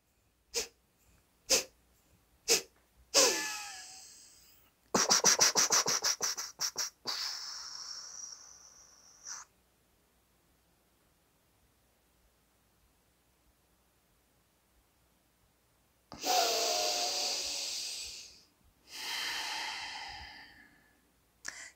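Kapalabhati fire-breathing exercise: a few sharp, forceful exhalations in a row, then a longer rush of breath, a pause of near silence, and two more strong breathy blasts, close and alone with no talk.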